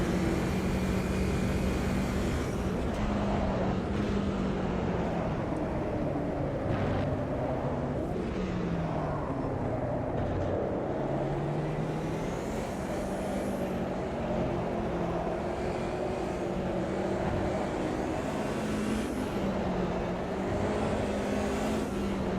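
A BMW 2002 Turbo vintage touring car engine drones steadily at racing pace around the Curvelo Short circuit in Automobilista 2, revs rising and falling with gear changes, loud and continuous with no speech.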